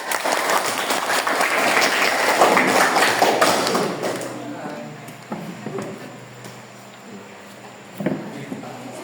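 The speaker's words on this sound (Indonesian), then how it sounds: "Ayo beri aplaus untuk kelompok Axel." Hearty applause from a classroom group welcoming a student team about to present, dense and sustained for about four seconds, then fading into scattered claps, taps and light thuds.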